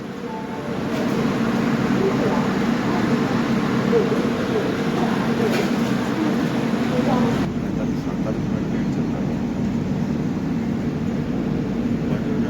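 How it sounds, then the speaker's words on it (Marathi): The Gondwana Superfast Express runs at a station in Pandhurna, a loud continuous rumble and roar of the train rolling past, steady throughout with a slight drop in intensity partway. "आणि आपली गोंडवाना सुपरफास्ट एक्सप्रेस."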